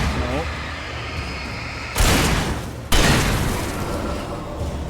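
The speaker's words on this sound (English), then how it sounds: "Got him the double shotguns." Two heavy double-barrelled shotgun blasts from the game Alan Wake go off about a second apart, each a loud, sharp boom that fades into a short tail, with a voice talking over the game sound.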